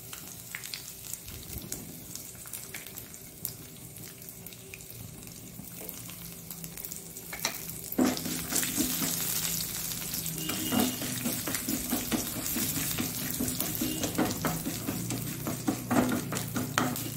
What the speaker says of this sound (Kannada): ನೋಡಿ, ಸಾಸಿವೆ ಸಿಡಿತು, ಆಫ್ ಮಾಡಿಕೊಂಡು